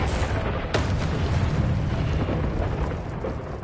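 A loud booming blast from the Confringo spell in the Hogwarts Legacy video game, one sharp onset followed by a sustained roaring rumble that slowly fades.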